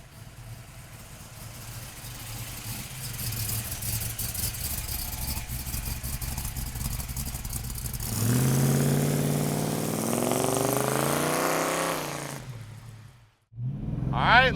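A black 1990 Ford Mustang with a 5-liter V8 idles with a steady rumble, then revs up and holds a louder, rising engine note before cutting out briefly and starting again near the end.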